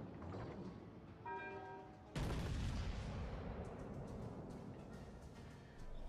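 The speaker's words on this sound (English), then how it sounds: "There's torps and gunfire coming in from all directions." Warship gunfire in the naval battle game World of Warships: Legends, with a heavy booming salvo bursting in at once and a sustained rumble of continuous shelling and explosions that stays loud to the end.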